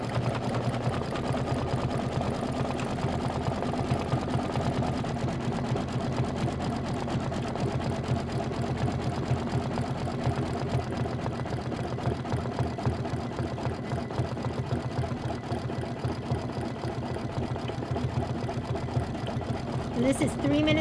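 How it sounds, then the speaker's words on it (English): An embroidery machine stitches a small pumpkin placement line in burnt orange thread for a pillow block, a steady, rapid mechanical whirring and clatter that runs continuously and close throughout. "we're going to stitch the small pumpkin placement line"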